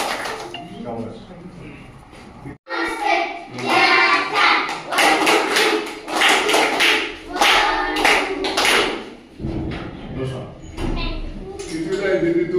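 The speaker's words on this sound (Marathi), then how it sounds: "दिनेश करता टाळ्या वाजवा." A group of students in a classroom claps for a boy in several uneven bursts, loud and close. A brief pause comes before the clapping, and an adult's voice speaks near the end.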